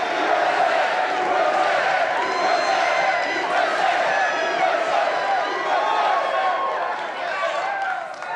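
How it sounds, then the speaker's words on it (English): Loud crowd noise at a political rally, a dense steady roar of many voices cheering and shouting across the whole stretch, close and continuous with no pauses. "Crowd is loud, ain't it?"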